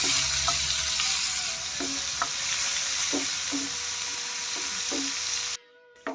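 Onion frying in hot oil in a pan for mustard hilsa, a loud continuous sizzle with periodic light spatula taps against the pan, cutting off abruptly near the end.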